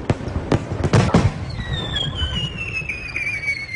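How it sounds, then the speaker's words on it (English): Summer night fireworks in Japan crackle and boom in several sharp bursts, then a long whistling tone glides downward over a rumbling background of distant pops. "The crackle and boom reach the ears slightly after the flashes hit the eyes."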